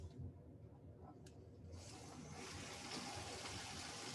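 A laboratory water aspirator turned up to full blast, a faint hiss that swells after a couple of seconds into a steady, broad rush of running water, continuous and close.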